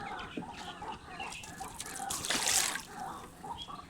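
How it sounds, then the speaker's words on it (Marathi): Busy outdoor bird chatter with clucking, fowl-like calls overlapping, plus a brief rushing burst in the middle; no one speaks. "पक्ष्यांची कसली तरी मीटिंग चालू आहे"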